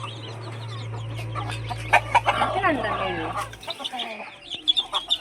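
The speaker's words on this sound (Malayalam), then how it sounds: "ഇപ്പോൾ ഇതാ ആ രണ്ട് ചേവലുകളൊക്കെ ഉണ്ടോ" Chickens and roosters cluck in short bursts around a person talking nearby, with a steady low hum underneath that cuts out near the end.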